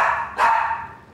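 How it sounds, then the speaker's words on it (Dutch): A single sharp dog bark, close and loud, followed by a short fading tail at a Dutch home in Arcen. "Is dat een hond en zelfs een baas heeft?"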